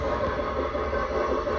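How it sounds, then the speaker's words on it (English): Steady rumbling rattle of an O-gauge model train running on a layout track, heard from track level as it heads straight toward the listener, continuous and fairly loud. "we're going to try to get the train coming directly at us on the track here."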